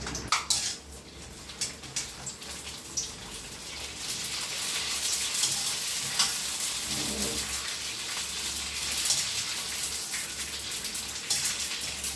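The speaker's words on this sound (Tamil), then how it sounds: "அப்புறம் நம்ம பானிபூரியை பொறிச்சு எடுத்துக்கலாம்" Homemade pani puri deep-frying in hot oil, a steady hissing, crackling sizzle that builds after a few light clinks at the start and stays fairly quiet and continuous.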